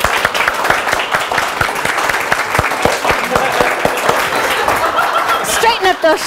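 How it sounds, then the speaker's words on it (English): Lively audience applause at a speaker-training session as a speaker walks up, dense and loud for several seconds with scattered chuckles and voices mixed in. "we give them applause on their way up"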